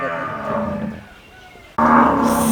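A Friesian dairy cow gives a loud, drawn-out moo close by on a dairy farm, pauses briefly, then lets out a second strong moo.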